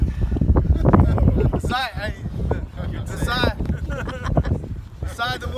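Strong wind buffeting a microphone outdoors at a SkyEarth gathering, a steady low rumble running under a man's loud speech throughout.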